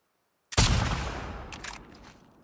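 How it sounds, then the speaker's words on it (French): A single gunshot from a gun in The Last of Us Part II, a loud sudden blast after silence with a long rolling echo that slowly fades, then faint clatter. No speech. "Le bruit de tir."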